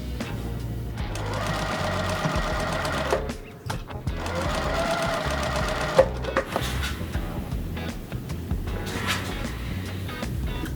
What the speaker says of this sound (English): sew all your blocks together into your final big block